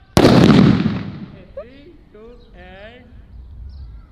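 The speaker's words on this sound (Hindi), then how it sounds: "इतनी दूर से भी हमने पटाखे को जला दिया" A firecracker set off by remote control bursts with a single sharp, loud bang that decays over about a second, followed by people talking excitedly.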